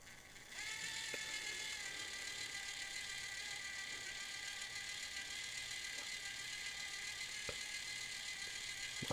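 Nylon axles on an RC crawler with underdrive gears spin up, producing a steady close whir of gears and drivetrain with faint rattling clicks, running continuously at even level.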